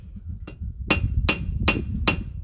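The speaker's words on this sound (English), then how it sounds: "going to go kind of over the edge of the anvil so I create a nice flat edge as I'm hammering down" Hammer blows ring on hot steel over an anvil during blacksmith forging: five sharp metallic strikes in a steady rhythm, close and loud over a low background rumble.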